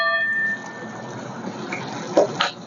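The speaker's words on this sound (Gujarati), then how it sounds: "આપણે થોડુંક પાણી નાખી દેવી" A little water is poured into a pan of cooking kaju gathiya, a cashew and gathiya curry, making a soft, steady hissing splash that follows a brief sizzle and ends with a couple of faint clinks.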